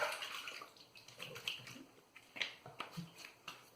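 Running water splashes and spatters as a Baili Victory safety razor is rinsed, with irregular close taps and drips of the metal razor against the stream.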